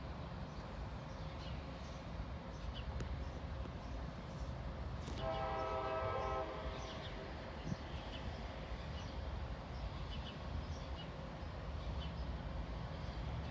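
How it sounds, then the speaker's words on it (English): A CSX train rumbles through a rail yard, a steady low drone with a brief horn blast partway through, heard from a moderate distance outdoors. "Another train coming through the yard."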